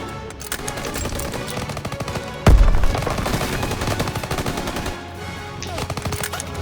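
An MG42 machine gun fires in Call of Duty WWII as loud, close bursts of rapid automatic shots, led by a sharp heavy blast, with brief gaps between the volleys.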